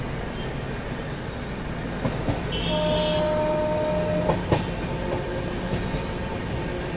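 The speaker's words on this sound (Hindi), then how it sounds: "अभी अपनी ट्रेन निकल रही है वारंगल रेलवे स्टेशन से" A train pulling out of Warangal railway station, with a steady rumble and rolling wheel noise, a few clanks, and a brief horn-like tone in the middle, heard from on board with no talking.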